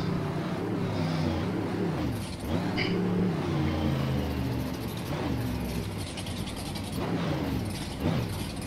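A virtual monster truck in the Rigs of Rods game backs up, its engine droning steadily with shifting pitch and a few sharp clanks and hisses over continuous motor noise.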